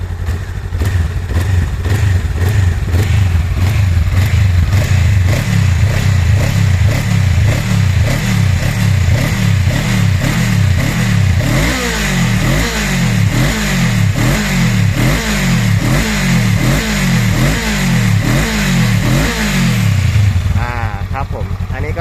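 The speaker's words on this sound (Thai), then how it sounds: "คือเสียงของเครื่องยนต์นะครับ" A 2022 Rebel 500 motorcycle engine idles loudly and then revs repeatedly in a steady, pulsing rhythm, close up and continuous, with a clattering mechanical edge.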